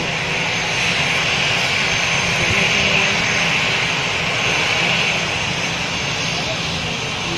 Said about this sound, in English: Wow, the airplane.